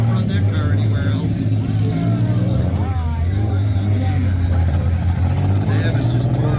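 A compact car roars continuously at a Harper, Kansas demolition derby as it tears away, its loud engine and crowd noise steady throughout while an announcer talks over it.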